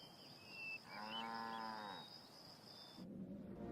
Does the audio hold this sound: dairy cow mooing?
yes